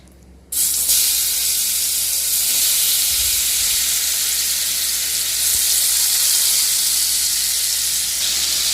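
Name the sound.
marinated prawns frying in hot oil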